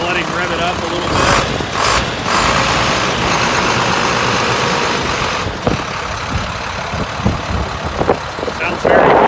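Diesel engine of a 2006 International 4300 forestry bucket truck running and revving outdoors, a steady loud rumble with a few throttle rises, and people talking faintly over it.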